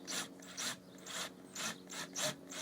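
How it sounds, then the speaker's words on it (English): A drill fitted with a countersink bit grinds down damaged gelcoat on a boat in short, repeated bursts, each a raspy, gritty whir separated by brief pauses, close and fairly quiet with no talking. "So we're just going to grind it down just a little."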